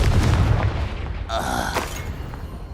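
A Confringo blasting spell goes off in Hogwarts Legacy: a deep, rumbling boom with a bright burst of crackle partway through, swelling loud and then tailing off into a dull roar.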